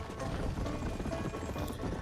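Horses race in Red Dead Redemption, their hooves making a quiet, steady clip-clop under a low, continuous background rumble.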